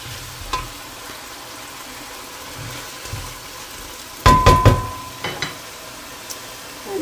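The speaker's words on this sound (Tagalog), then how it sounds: "Gisa-gisa muna natin." Menudo ingredients, including vinegar-soaked pork liver, sautéing in a pan: a quiet stretch, then a short cluster of sizzling and stirring bursts midway, with a few fainter scrapes after.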